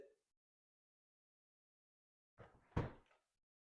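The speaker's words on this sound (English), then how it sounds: "all you do is open the door more and more" A door is handled in a quiet room, giving a single muffled knock-like thud with a brief rattle after a long silence.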